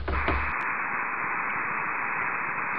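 Tennessee radio beacon received on a 144 MHz receiver, a steady wash of radio static and hiss with a brief tone burst at the start, continuous and fairly loud, no voices.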